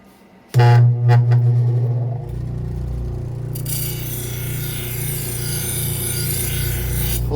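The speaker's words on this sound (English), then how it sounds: "then we'll just do the final deburr and polishing steps like I normally do right over here" A knife's serrated edge deburred and polished on a spinning wheel, starting with a loud motor hum and then a steady, close grinding rasp that holds for several seconds.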